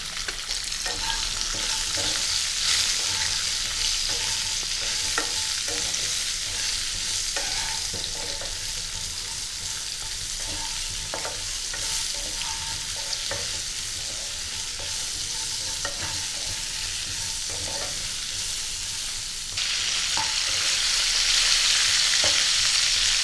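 Cauliflower and carrot with a little salt and turmeric stir-fry in a pan, a continuous close sizzle with repeated scraping stirs throughout, swelling louder near the end, with no voices.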